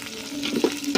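Garlic sautés in a frying pan with a soft, steady sizzle and a few quick stirring scrapes.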